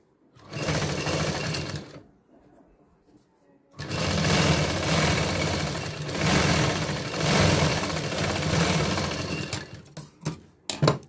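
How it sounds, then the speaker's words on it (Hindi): A sewing machine runs in two sustained, loud bursts of whirring and stitching along the bottom hem of a princess cut blouse, separated by a short quiet pause and ending with a few stop-start runs. "नीचे की साइड में भी एक सिलाई लगा देंगे।"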